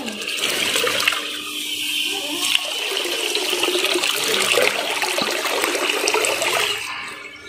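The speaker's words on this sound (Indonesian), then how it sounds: "kita bisa menghasilkan banyak sekali gelembung-gelembung udara dan tidak perlu menambahnya dengan aerator" A small water pump driving a mushroom fountain pipe gives a steady, continuous rush of splashing water thick with fine air bubbles, close and fairly loud throughout with no talking.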